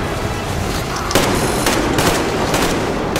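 Turret gunfire in the video game Metro Exodus, a dense, loud burst of rapid shots that kicks in about a second in and keeps hammering steadily to the end, with no voices over it.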